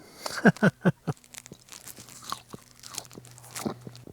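Crunchy potatoes are bitten and chewed at a campsite in Eldorado National Forest, starting with a quick run of loud, close crunches and easing into quieter chewing.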